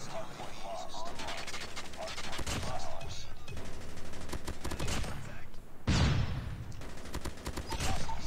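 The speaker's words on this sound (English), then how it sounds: "Where's this guy shooting me from?" Rapid bursts of gunfire fill a first-person shooter video game, loud and close, with automatic volleys and heavier impacts repeating throughout while a voice occasionally talks underneath.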